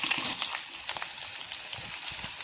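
Chopped vegetables with sliced onion and green chilies fry in a pan, a steady close sizzle with crackling pops continuing throughout.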